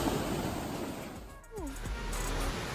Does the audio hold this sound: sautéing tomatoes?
no